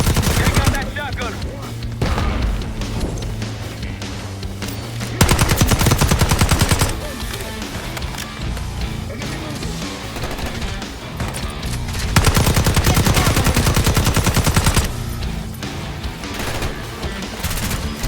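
Sustained automatic gunfire from a Call of Duty: Black Ops 6 firefight, loud and dense bursts rattling almost nonstop with brief lulls, booming impacts mixed in and faint voices underneath.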